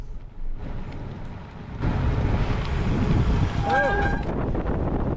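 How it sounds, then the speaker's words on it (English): Strong wind roaring across the microphone during a gravel bike ride on the Belgian Waffle Ride, loud and buffeting throughout and growing heavier partway through, with a brief faint tone over it. "The wind was so strong that it nearly blew us over"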